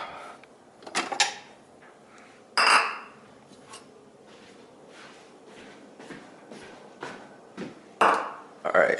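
A bowl handled on a kitchen counter before mashing bananas, with a few sharp clinks and knocks of crockery and cutlery scattered through, and a person talking in between.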